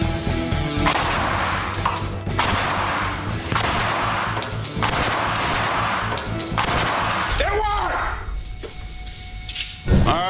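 Loud, close bursts of automatic gunfire from a replica Tommy gun modified for select fire, coming in five or so sustained strings separated by short pauses, then a clattering and a final sharp bang.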